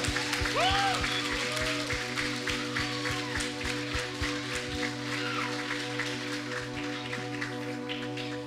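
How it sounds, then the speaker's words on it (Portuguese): Church congregation clapping during a worship service, a steady wash of applause with sustained organ or keyboard tones and a voice singing or speaking over it. "aplauda mais uma vez o Senhor"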